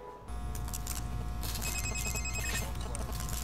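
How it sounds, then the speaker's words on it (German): A telephone ringing in the video game République, a loud, continuous electronic ring that starts abruptly after a brief pause and keeps going to the end, with no talking. "Schon wieder das Telefon."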